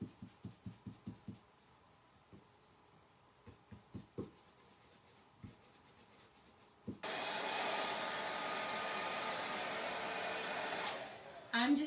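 A hair dryer on its cool setting dries stencil paint on a fall craft sign, starting after several soft brush taps and rubs, then running as a steady, close whoosh for the rest of the clip.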